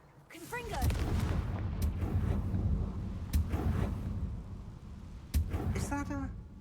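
Confringo fire spell blasts in the Hogwarts Legacy video game, loud booming bursts over a constant rumbling battle din, with a sharp explosive hit near the end and a voice briefly heard.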